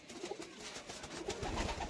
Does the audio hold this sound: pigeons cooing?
yes